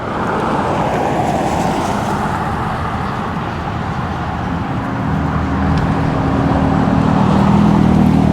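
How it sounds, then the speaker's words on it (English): Road traffic rumbles past a roadside stop on a fat tire e-bike, a steady wash of car noise that swells louder toward the end as a vehicle draws close. "Wait for traffic to clear here a little bit."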